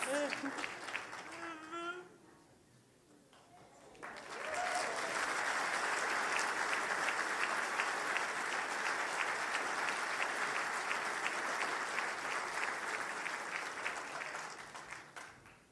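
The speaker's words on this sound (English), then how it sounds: "Let's give a big round of applause again for our clients of the year" An awards ceremony audience breaks into sustained applause, a dense wash of many hands clapping that holds steady for about ten seconds before tapering. Voices are heard over the opening seconds before the clapping swells.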